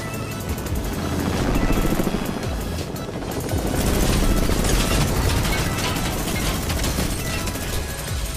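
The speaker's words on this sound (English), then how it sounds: "Oh, hello, fellow helicopter!" A video game helicopter flies nearby with a loud, continuous rotor thump and whine that swells in two waves, joined by scattered crashes and game effects.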